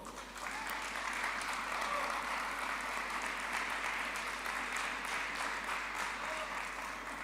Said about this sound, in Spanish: Y vamos a darle un aplauso.